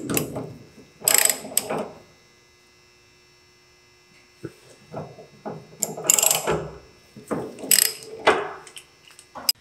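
Ratchet wrench cranking the spindle nut on a 1999 Trans Am front wheel bearing, heard as bursts of rapid clicking, two separated by a quiet pause, close and fairly loud over a steady background hum.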